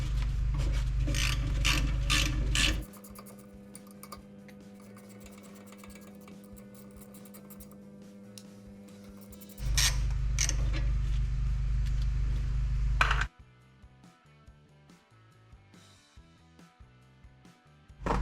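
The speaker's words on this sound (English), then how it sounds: "I can go ahead and crack these 1/2-inch bolts to get it loose." Half-inch bolts being loosened on the rear brake of a 1979 Ford Bronco during a wheel cylinder replacement, heard as a loud, steady ratchet clicking that comes in long runs, then drops away to faint scattered mechanical ticks.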